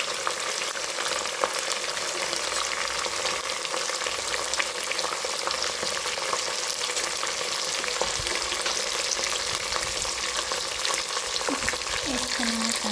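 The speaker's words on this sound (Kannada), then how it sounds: "ಈಗ ಒಂದು ಸ್ವಲ್ಪ ಇದು ಎಣ್ಣೆಯಲ್ಲಿ ತುಪ್ಪದಲ್ಲಿ ಫ್ರೈ ಆಗುತ್ತೆ" Cashews and raisins fry in hot ghee with a steady, close sizzle that crackles continuously throughout, with occasional stirring.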